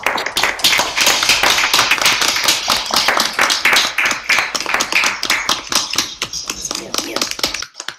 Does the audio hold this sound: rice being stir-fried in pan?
no